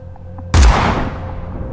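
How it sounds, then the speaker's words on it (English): A single loud shotgun blast as loud as an explosion, a sharp sudden crack followed by a long decaying rumble, heard alone after a quiet room-like hush. "A shotgun blast as loud as an explosion."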